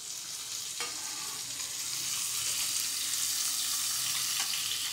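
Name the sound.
pumpkin and vegetables stirred while frying in a pan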